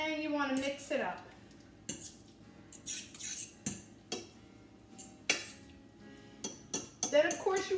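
A spoon stirring food in a pot, with scattered clinks and scrapes against the metal coming in short irregular bursts, near and fairly quiet, with a few faint voice sounds at the start and end.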